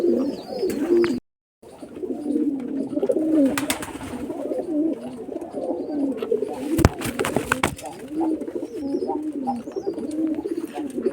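A flock of pigeons kept for sale coo steadily in overlapping low, throaty phrases close by, with faint chirps mixed in, a brief silent gap early on and a few sharp bumps midway.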